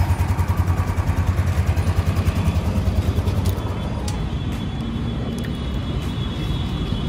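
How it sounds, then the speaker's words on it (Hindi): A Royal Enfield Bullet 350 ES motorcycle with a long-stroke UCE engine idles close by with a steady, rhythmic low thump that eases into a smoother running tone partway through. "बिकॉज ये लॉन्ग स्ट्रोक इंजन है तो इसका थोड़ा थम्पी साउंड होगा।"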